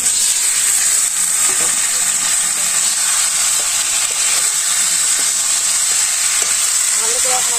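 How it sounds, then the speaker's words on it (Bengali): Chicken meat sautéed with reddish fried onions in a hot pan: a loud, steady close-up sizzle and hiss with faint stirring scrapes throughout, no talking. "ভালো করে এখন আমি কষিয়ে নেব।"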